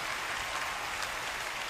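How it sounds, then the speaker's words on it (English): A church congregation claps during a sermon, a steady, dense wash of many hands that runs evenly throughout without pause or standout beats. "Why are you not clapping as loud as you were clapping a few minutes ago?"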